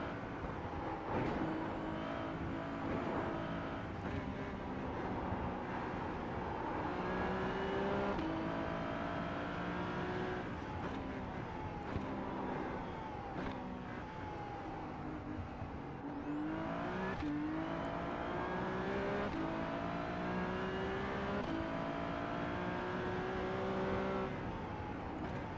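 A Ferrari 296 Challenge race car engine in a VR racing game on the Nordschleife, loud and continuous, with repeated revving climbs and gear-change dips as the car accelerates and brakes through corners.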